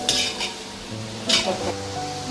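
Onions sautéing in a pan for a Kerala-style prawn curry, with two bursts of stirring and scraping over a soft, steady sizzle, close and moderately loud.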